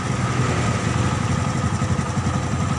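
A Honda Beat Pop motorcycle engine idles steadily up close, with an even low putter that holds a constant rhythm throughout and has no speech over it.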